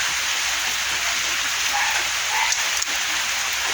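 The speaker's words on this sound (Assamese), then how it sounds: "পূৰা বৰষুণ দি আছে একদম" Heavy rain pouring down outdoors during a downpour, a dense continuous hiss of drops on surfaces, loud and close, with no talk over it.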